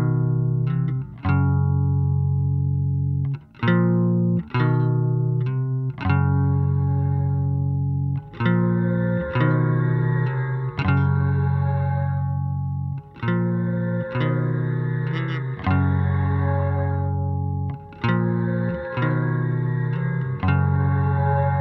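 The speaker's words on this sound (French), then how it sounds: "on a une basse ici donc qui va être avant départ dans l'effet, et là le départ qui va s'ouvrir et qui va donc envoyer la basse dans l'effet reverb" An electric bass plays a repeating riff, first dry and then with a reverb effect opening up to wash and lengthen its notes, loud and alone with no talking.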